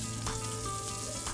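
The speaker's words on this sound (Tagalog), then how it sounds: "iprinito niya ito sa kumukulong mantika" Banana dough frying in boiling oil for Quezon-style maruya, a steady close sizzle and crackle that holds evenly throughout with no talk.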